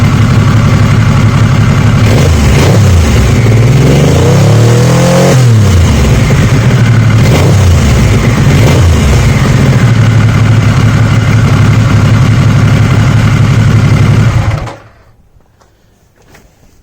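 Triumph Sprint engine, cold and a little smoky, revving up and down in repeated swells over a steady idle, loud and close, then cutting off abruptly near the end with silence after.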